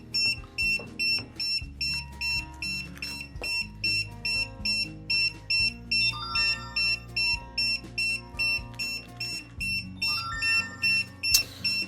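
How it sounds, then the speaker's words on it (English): A DJI Agras T50/T40 agricultural drone remote controller, not yet calibrated, gives off a steady train of short high-pitched electronic beeps, repeating in an even rhythm at close range over faint background noise. "Should have the same beep because it's not calibrated yet"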